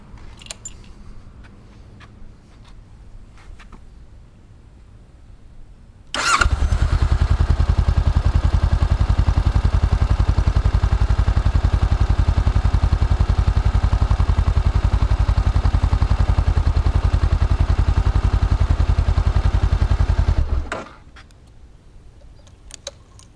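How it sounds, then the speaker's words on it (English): A 2013 Honda CBR500R motorcycle engine starts and runs at a steady, loud idle for about fourteen seconds before being cut off, with quieter background sounds around it. "We'll turn on the CBR for you."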